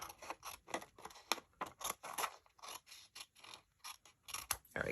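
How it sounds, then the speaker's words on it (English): Scissors snip through scrapbook paper in a quick series of sharp, crisp cuts with short pauses, close and fairly quiet, with no talking. "And I'll just use my scissors to cut that off."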